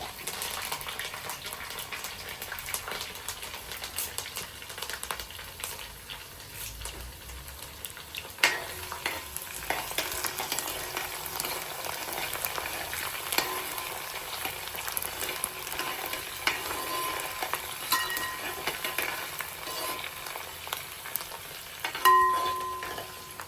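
Dried red chillies, garlic, ginger and curry leaves sauté in a pan for an amla pickle, giving a steady close sizzle and frying hiss throughout, with occasional stirring scrapes and no talking.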